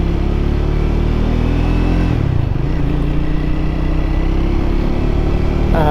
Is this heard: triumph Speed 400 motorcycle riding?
yes